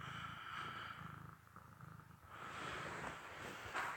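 A gray cat growls low and rumbling up close, a faint continuous throaty purr-like sound that swells and eases with its breathing on a snowy day.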